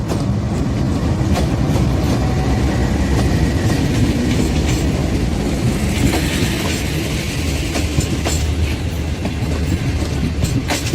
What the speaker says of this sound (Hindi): ये मेरे इस ट्रैक पे आएगी, साथ वाले ट्रैक पे। Slow moving green line express.